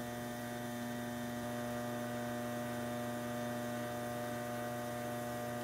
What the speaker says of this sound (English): You see that I hold my tool very steady and spin the wheel really fast.